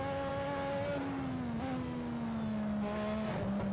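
A 1200-horsepower race car roaring in a racing game on the old Austrian GP circuit, a steady loud engine drone with the pitch rising and shifting slightly as it accelerates.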